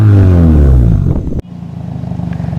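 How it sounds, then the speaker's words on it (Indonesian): A Toyota Vios with a custom double-muffler exhaust revs loudly and close by, then drops abruptly into a lower, rhythmic burbling idle. "Jadi bisa dilihat ini untuk hasil suara knalpot yang sudah kita custom."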